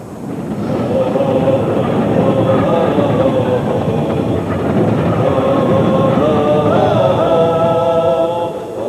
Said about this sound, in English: they got on what they thought was the overnight train to Yugoslavia